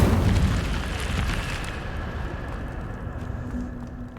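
The Incendio fire spell is cast in Hogwarts Legacy, releasing a loud, whooshing fiery burst that hits hard at once and then rumbles and fades slowly over several seconds.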